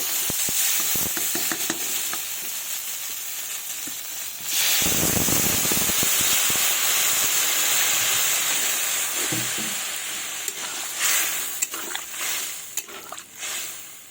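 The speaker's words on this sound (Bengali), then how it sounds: "এবার আমি পরিমাণ মতো জল দিয়ে দেব" Water poured into a pan of simmering small-fish curry hits the hot spices with a loud hiss and sizzle, a burst that rises sharply and then settles into steady bubbling and stirring sounds, with no talking.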